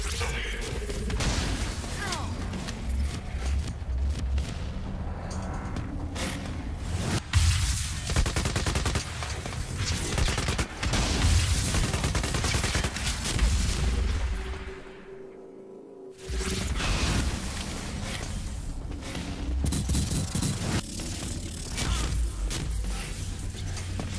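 Chronon-tech juggernauts in heavy exoskeletons fire custom-built weapons during a Quantum Break firefight, with dense rapid bursts of gunfire and whooshes that drop out briefly near the middle before resuming.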